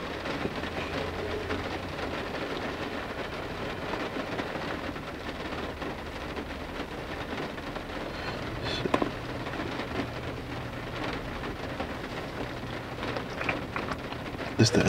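Steady rain falls and patters on surfaces throughout, a dense even hiss with a few sharper drops, heard up close with no talking.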